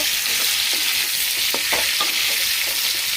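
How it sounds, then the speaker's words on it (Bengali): Boiled potatoes fry in hot oil with a loud, dense sizzle, broken by a few sharp scrapes and knocks as they are stirred. "আলুটা সিদ্ধ করা এটা দিয়ে দিয়ে দিলাম তেলের মধ্যে সেটাকে এখন একটু ভাজাভাজি করব"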